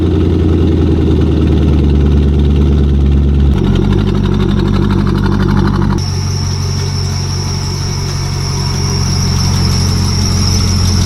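A Chevrolet Corvette engine idles close by while the car is parked in a garage, a steady low rumble with a high squeal over it that changes tone partway through.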